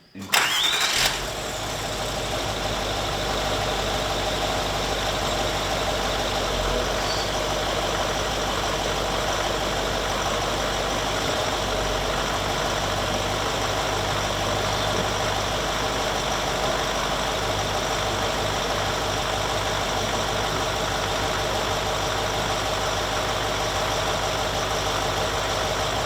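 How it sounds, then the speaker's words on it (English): A Range Rover with a ZF 6HP transmission cranks and fires at the start, then settles into a steady, even idle that holds close and moderately loud for the remaining twenty-odd seconds, with no talk. "So I'm assuming start it up, put it in reverse, hold"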